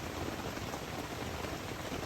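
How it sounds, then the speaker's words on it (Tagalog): Heavy rain pounding steadily on a family campsite at night during a rainstorm, a dense continuous hiss with no pauses, close and fairly loud, with no voices. "Maulan pa din. Malakas pa din ang ulan."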